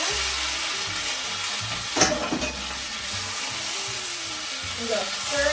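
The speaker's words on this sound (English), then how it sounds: "So I'm going to dump in my drained fresh green beans." Fresh green beans, softened cranberries and nuts sizzle steadily in a hot pan while being stirred, with a brief scraping clatter of the spoon partway through and a continuous frying hiss throughout.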